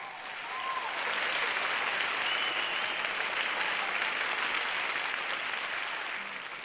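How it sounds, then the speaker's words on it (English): An audience at a live event claps together in steady, dense applause that swells quickly, holds for several seconds and tapers slightly at the end, with a little crowd noise mixed in. "let's put our hands together for the legend in sports broadcasting, Charles Anazodo."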